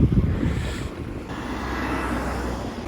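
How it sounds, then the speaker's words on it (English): Wind rumbles across an open microphone in a small harbour with fishing boats, with water sloshing and a steady low boat-engine hum beneath. "Nice little harbour, brightly coloured fishing boats."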